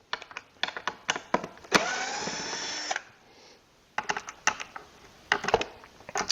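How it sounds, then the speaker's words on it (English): A power drill or driver backs pocket screws out of a woodworking table jig: a close whirring burst of about a second among many clicking, tapping handling knocks, with no talk. "I can take out these pocket screws that are holding the"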